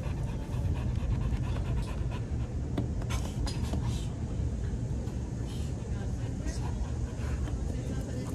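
A tan dog pants steadily and rapidly up close, its quick breaths running continuously with some faint background noise.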